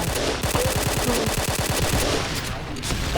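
Rapid automatic gunfire in the shooter game Point Blank, a steady burst of evenly spaced shots rattling close and loud for the whole stretch, with no voices over it.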